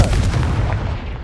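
Loud blasting spell explosion from a Harry Potter video game, a booming burst that fills the clip with dense rumbling low end and fades out over about a second, heard alone.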